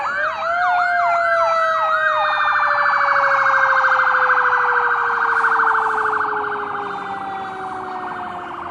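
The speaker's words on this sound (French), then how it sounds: "c'est l'ambiance des États-Unis avec ses sirènes" An emergency vehicle siren in the United States wails loudly, first rapid yelping sweeps, then a long steady descending tone that slowly fades as the vehicle passes, alone without talk.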